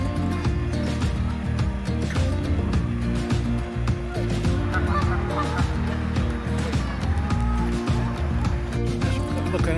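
Swans and ducks in a park near a nesting island honk and call loudly and continuously, with someone talking over the birds throughout.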